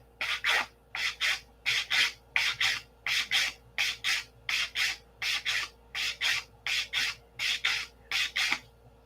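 A file rasps against a metal part for a P-47 wing build in steady back-and-forth strokes, about two per second, close and loud with a faint hum underneath.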